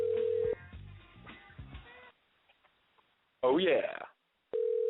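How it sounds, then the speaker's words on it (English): A telephone call being placed, with a steady tone at the start, then a short voice and a few faint clicks, and a tone returning at the end, all narrow and phone-line filtered. "And as that phone rings"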